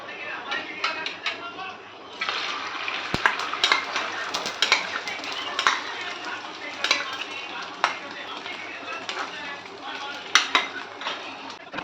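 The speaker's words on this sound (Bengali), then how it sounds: "আর এখানে আমি ডিমটা ভেজে নেব।" An egg fries in hot oil in a home kitchen, beside potatoes and onions frying for chow mein. A steady, soft sizzle runs under repeated metal utensil clinks and stirring scrapes, with a voice talking now and then.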